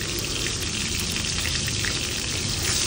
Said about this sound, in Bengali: এখানে আমি এক এক করে প্রত্যেকটা ইলিশ মাছ খুব ভালো মতন ভেজে নিব